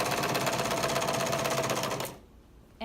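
Sewing machine stitching a fabric sheet with the presser foot down, a loud, even rapid mechanical chatter for about two seconds that stops abruptly into quiet, then a brief clunk at the end.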